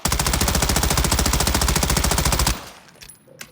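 Sustained automatic fire from the M13B rifle in the video game Warzone, a rapid, evenly spaced burst of loud shots lasting about two and a half seconds, then cutting off to quiet background.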